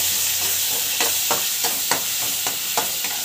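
Garlic and ground tomato masala sauté in a pan, a steady background sizzle broken by a series of regular scraping stirs roughly every third of a second, close and fairly loud with no voices.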